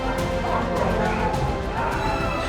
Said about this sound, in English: What would you do if a dog attacked you like this?